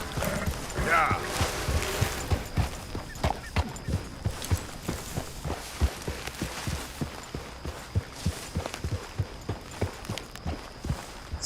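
Video game horse hooves from Red Dead Redemption 2 clip-clopping at a steady walking pace, evenly spaced thuds continuing throughout against a soft ambient background.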